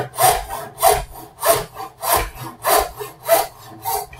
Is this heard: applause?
no